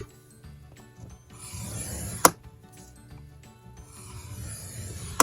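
Cardstock is scored on a scoring board with a bone folder at half an inch, giving soft scraping and rubbing strokes, close and quiet, with a couple of sharp ticks and clicks between them.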